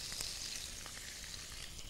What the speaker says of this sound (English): half a glass of white wine, makes it sizzle when you add the wine